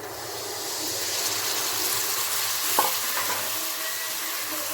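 Chicken curry mixture sizzles in a hot pan while being stirred, giving a steady, close frying hiss with light scrapes and one sharper clink partway through. No one speaks.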